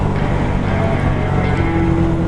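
A KTM 390 Super Duke single-cylinder motorcycle engine dropping down into fourth gear, a loud, steady engine drone mixed with rushing wind.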